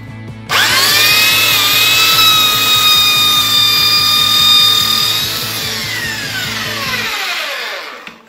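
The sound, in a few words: Makita belt sander with 80 grit belt sanding wood veneer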